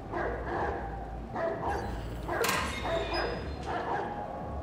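In the video game Watch Dogs 2, a dog gives a series of short barks and yips, moderately loud, with a faint voice talking underneath.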